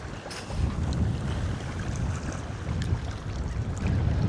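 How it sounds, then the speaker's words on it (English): Wind gusts steadily over open water near a fishing boat off Corpus Christi, a continuous low rushing roar that buffets the microphone, with faint splashing and no voices. "that wind's whipping up and a front is about to really come through here pretty hard"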